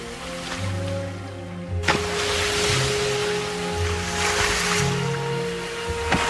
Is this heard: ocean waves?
yes